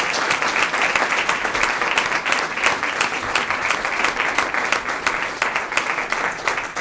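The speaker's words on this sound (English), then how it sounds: "let's give our panelists a round of applause" An audience gives a dense, sustained round of applause for the panelists at an evening panel on women in sports, with many hands clapping steadily and loudly throughout.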